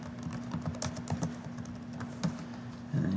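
Keys on a computer keyboard tapped in a short, uneven run while a subset name is typed in Civil 3D's Sheet Set Manager, clicking close and clear over a steady low hum.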